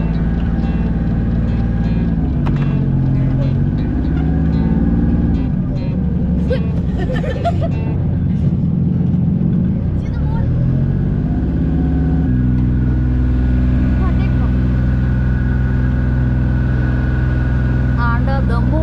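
A lantern boat's engine drones loudly and steadily throughout on a night ride in Hoi An, Vietnam, with people talking over the rumble.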